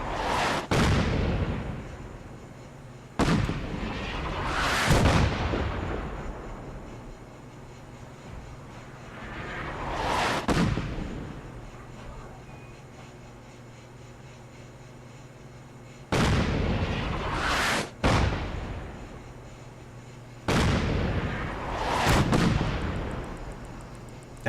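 Heavy artillery pieces fire in a Fallout game, several separate booming blasts spaced seconds apart, each a sharp loud crack with a rolling tail, over a steady low rumble and no talk.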